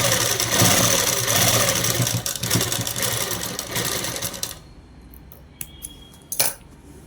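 A sewing machine runs a top seam along a child's frock in a steady, busy whir for about four seconds, then stops, leaving a few faint clicks and handling sounds.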